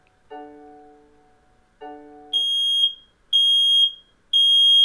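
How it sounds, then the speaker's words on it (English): A Nest Protect V2 smart smoke alarm, mounted and set off by a spray test, gives two short electronic chime tones and then three loud, sustained high-pitched shrill alarm beeps in a regular pattern, close and alone. "You can see what the alarm is like now as it's mounted."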